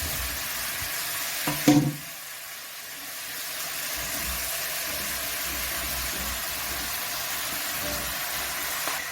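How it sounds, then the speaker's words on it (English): Nduma (arrowroot) stew with meat and potatoes being stirred in a pot: a brief loud scrape and clatter near the start, then a steady soft sizzle for the rest. "So guys, I'll go ahead and stir everything."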